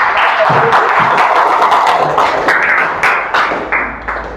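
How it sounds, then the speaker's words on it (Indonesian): Applause at the close of a school meeting at SMPN 5 Pangkalan Lada: sustained, fairly loud group clapping that thins out toward the end, with a few sharper individual claps standing out. "Tepuk tangan untuk semuanya."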